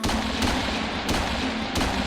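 Explosions in the mobile game Plants vs. Zombies 2 sound as three sharp, evenly spaced booms over a dense, continuous game soundtrack.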